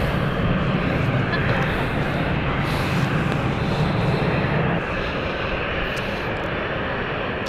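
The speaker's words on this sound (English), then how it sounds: "Cute little plane, this one." A small passenger plane taxis at London City Airport, its engines giving a steady, loud, close droning roar that eases a little partway through.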